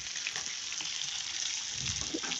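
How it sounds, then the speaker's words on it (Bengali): Snakehead fish fries in oil, a steady, hissing sizzle that stays even throughout, heard close with a few faint clatters near the end. "দেখো, মাছগুলো ভেজে নিচ্ছে"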